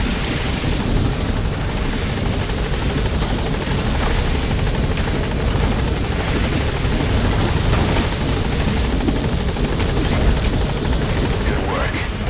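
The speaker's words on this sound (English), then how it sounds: "All right, the chopper's touching down." A helicopter in Metal Gear Solid V settles down to land, its rotor roaring loud and steady throughout with scattered gunfire and booms mixed in.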